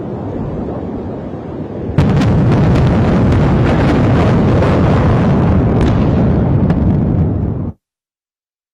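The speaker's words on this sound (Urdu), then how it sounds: "یہ دھماکوں کی آواز ہے جو کہ آپ سن سکتے ہیں جب یہ راکٹ داغے گئے ہیں" Fired rockets exploding in a continuous, very loud roar of blasts and crackling bursts, opening with a sharp jump in intensity and cutting off abruptly into silence.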